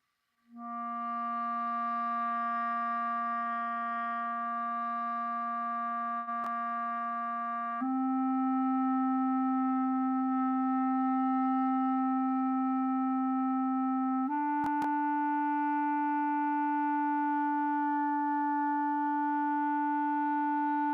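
Sustained long tones on a wind instrument, played as a scale warm-up: three steady held notes, each stepping up in pitch, loud, close and unaccompanied, with no talking.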